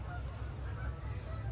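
Many birds call outdoors along a shore, with honking goose-like cries rising over a constant low wind rumble.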